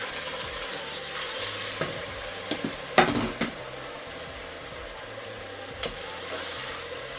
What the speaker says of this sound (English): I'm going to add my crushed tomatoes.